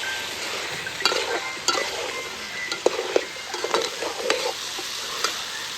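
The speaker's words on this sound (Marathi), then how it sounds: "सगळं मसाला टाकून मस्त असं मिक्स करून घेणार आहे." Mixed masala being stirred into mutton in a hot pan, a steady sizzle broken by repeated sharp scrapes and knocks of the spoon, close and clear.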